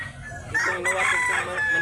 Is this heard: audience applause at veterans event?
no